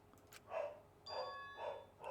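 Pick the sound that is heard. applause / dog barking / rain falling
dog barking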